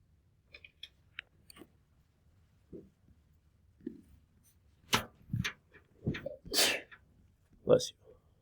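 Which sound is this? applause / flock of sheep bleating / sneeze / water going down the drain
sneeze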